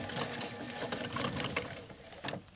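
An elf garland machine runs steadily and close by, giving off a continuous rattling, clicking mechanical whir with small rhythmic ticks throughout; nobody speaks.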